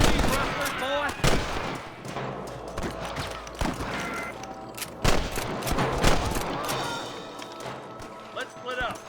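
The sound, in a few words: gunfire from the video game Red Dead Redemption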